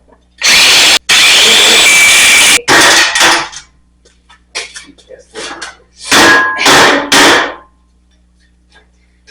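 A power grinder cutting away bad factory welds on a mini bike frame, loud bursts that start and stop repeatedly, with pauses between the cuts and some nearby talk.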